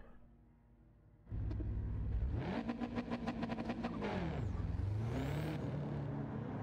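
After a quiet start, a car engine bursts in close and loud, revving hard with rising and falling pitch sweeps as it accelerates past, then settles into a steady drone.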